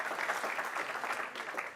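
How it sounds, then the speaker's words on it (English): A short burst of applause, many hands clapping together in a steady patter, moderately loud throughout. "let's give another round of applause"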